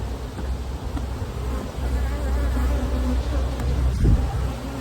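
A loud, dense drone of honey bees swarming around a hive while a nuc is transferred into a brood chamber, steady and close, with occasional bees flying past.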